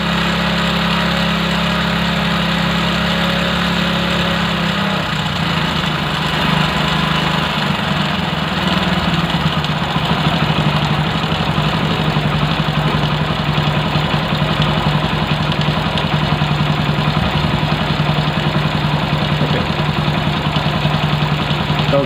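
A bike's carburetted motorcycle engine idles steadily during carburetor cleaning and idle adjustment, a close, continuous low throb that shifts slightly in tone partway through as the idle is turned down.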